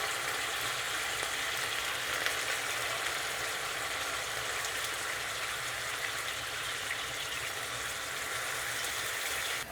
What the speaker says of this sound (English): the proper step at this point is to add the Shaoxing wine